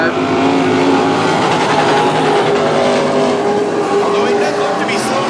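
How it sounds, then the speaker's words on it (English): Race car engines at a North Central Speedway dirt-track heat race, one car with a suspected fault bouncing off the rev limiter, producing a loud, sustained, buzzing roar with fluttering pulses throughout. "That's the same noise that the Hornets make when they're hitting the rev limiter."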